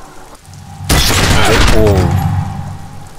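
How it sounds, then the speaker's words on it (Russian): Two simultaneous gunshots in the video game Disco Elysium, a loud sudden blast that cuts in sharply and rings on with a decaying echo, following a brief spoken syllable. "два выстрела раздаются одновременно."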